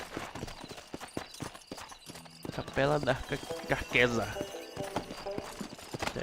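A horse in the Red Dead video game clops along with hoof beats and gives a whinny midway, heard under someone talking and game background sounds.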